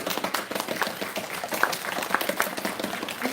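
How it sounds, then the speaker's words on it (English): Applause at an elementary school award ceremony for a first-grade award recipient: a steady patter of clapping with scattered sharper claps, moderately loud and fairly close, with no talk over it. "We have a round of applause for our first grade award recipient."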